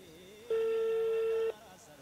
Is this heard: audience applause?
no